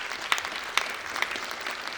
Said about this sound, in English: can I please get some applause for all our amazing speakers?